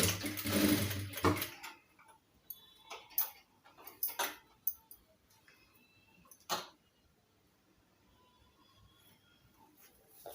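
A sewing machine stitches a homemade cloth face mask, with one loud dense run of stitching at the start followed by short intermittent bursts and clicks, no talking.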